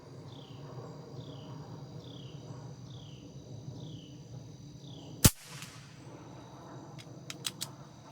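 A single sharp shot from a R.A.W. TM1000 .177 caliber air pistol fitted with a shoulder stock, fired at a target 50 yards away, rings out as one loud crack over steady background hiss, with a few faint clicks afterward.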